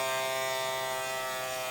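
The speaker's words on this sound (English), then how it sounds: "And I'm drilling, and I'm drilling, and I'm drilling." A Tamiya electric handy drill drilling through a carbon part on a running-low battery, a steady, close, continuous high whine with a buzzing edge that holds without a break.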